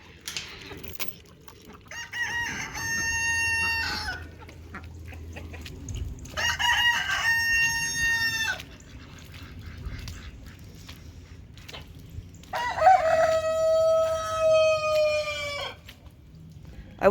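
A rooster crows three times in the rain, each call a drawn-out, wavering cry a few seconds apart, set against soft rainfall and quieter clucking from other chickens.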